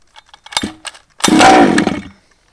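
Small gas engine of a Baja machine pull-started with the choke down: a few short cord-pull rattles, then a loud, close burst of raspy ignition lasting under a second before cutting out.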